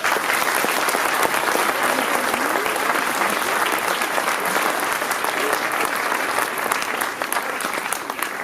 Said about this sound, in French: Je voudrais les applaudir.